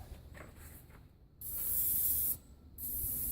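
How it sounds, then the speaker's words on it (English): Two bursts of aerosol engine cleaner spray hiss loudly, the first about a second long, the second starting after a short pause, following a quieter stretch of faint rustling. "It looks like I'm spraying everywhere, but I am trying to be careful where I spray."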